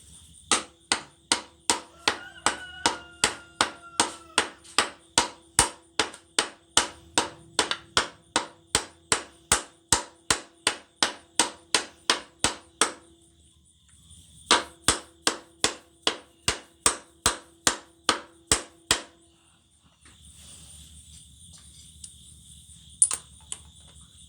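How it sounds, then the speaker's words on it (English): A hammer gives gentle, evenly spaced taps to a harmonic balancer being seated onto the crankshaft of a 1999 Chevy Blazer: dozens of sharp metallic knocks in steady runs, a short pause between them, close and clear with no talk. "Now I'm going to give this a couple of gentle taps."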